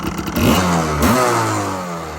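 A Yamaha Tri-Z three-wheeler engine revs hard through an old stock muffler, two quick throttle blips rising in pitch before settling into a steady, loud idle nearby.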